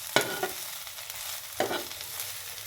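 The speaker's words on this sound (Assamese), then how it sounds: "এতিয়া আকৌ এবাৰ লৰাই দিম" Lai greens (mustard leaves) fried with egg in a pan, stirred with two distinct scraping strokes, each followed by a soft, quiet sizzle, with no voices.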